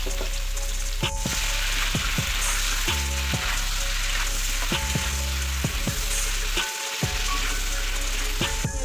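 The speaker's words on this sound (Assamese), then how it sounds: "তেলত ভাজি ল'লোঁ।" Green papaya pieces with turmeric and salt fry in hot oil in a pan, giving a loud, steady sizzle broken by repeated scraping and clattering stirs, with no voices.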